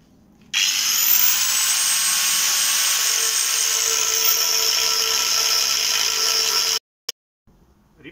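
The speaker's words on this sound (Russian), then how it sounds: "не забываем одевать защитные очки и начинаем болгарочкой пилить" An angle grinder cuts into a steel gas cylinder, a loud, steady, high-pitched grinding whine that holds for about six seconds, then stops abruptly, followed by a brief clunk.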